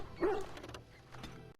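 A dog in Dragon Age: Origins gives a short, close bark or yip near the start, followed by faint game background sounds.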